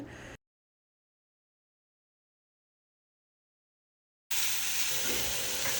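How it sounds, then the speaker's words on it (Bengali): Hot oil sizzles and crackles in a steel frying pan in two short bursts, one at the very start and a longer one at the end, with silence between. "তেল দিয়ে দিলাম দেখুন তেল দেওয়াতে একদম গরমটা উঠে গেছে উপরে"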